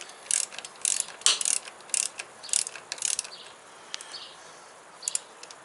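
A ratchet clicks in short bursts as a bolt on a Sportster motorcycle battery terminal is tightened, a quick series of close, crisp clicks with pauses between strokes and no talk.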